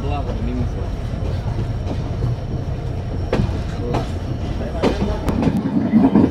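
Simanta Express passenger train rolling along rails at night near Khulna, a steady rumble with faint clicks and a few sharp knocks, fairly close and continuous, growing slightly louder at the end.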